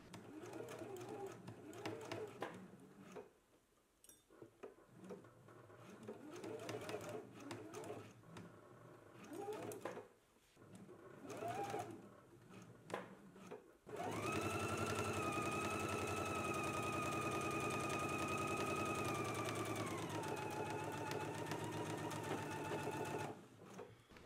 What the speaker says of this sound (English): Let's go ahead and stitch them in place now.